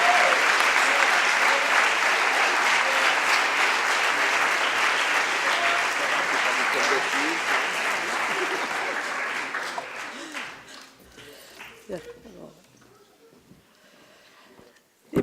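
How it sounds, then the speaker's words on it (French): Sustained applause from a lecture audience for a speaker on African history and the slave trade, filling the room for about ten seconds before fading into scattered claps and murmured voices. "je lui passe la parole en vous demandant peut-être de l'applaudir et de la remercier"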